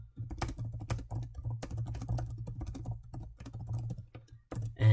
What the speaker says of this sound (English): If I just type out some random sentence.